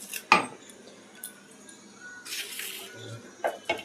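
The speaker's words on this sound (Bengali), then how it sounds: "আমি একটা মিক্সিং বোল নিয়ে নিয়েছি," A mixing bowl is handled in a home kitchen while making a long-bean paste, with a few sharp clinks and knocks against a quiet background, plus a brief rustling scrape in the middle and two more clanks near the end.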